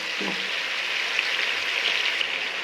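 Broiler chicken meat fries uncovered in a pan, giving a steady, close hissing sizzle with a brief scrape of stirring near the start.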